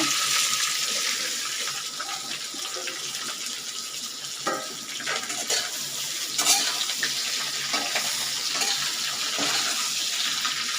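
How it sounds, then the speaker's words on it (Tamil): Okra frying in a pan with dried chillies and curry leaves makes a steady, hissing sizzle throughout, close and moderately loud, with occasional soft stirring knocks. "வெண்டைக்காய் கொஞ்சம் நல்லா வதங்கி வரட்டாங்க"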